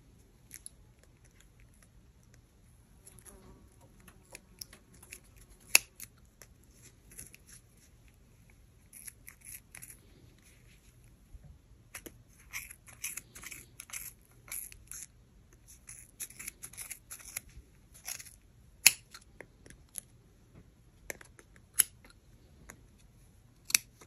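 Scissors snip through yarn wound on a pom pom maker, giving quiet, close, irregular crisp cuts that come in clustered bursts with short pauses between them.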